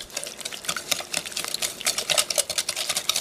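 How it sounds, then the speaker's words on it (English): Lemon bar filling of lemon juice and other ingredients is whisked in a bowl, giving a quick, rhythmic series of clattering strokes, close and fairly loud, with no voices. "stir these ingredients until they're well blended"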